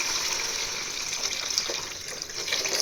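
Water poured steadily into a cooking pot while making ghee rice, a continuous close splashing gush with no talk.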